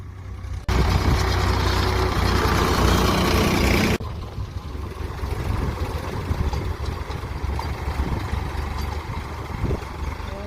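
A tractor engine works a cotton field: a loud, steady roar for the first few seconds, then a lower, rumbling drone that carries on quietly in the background.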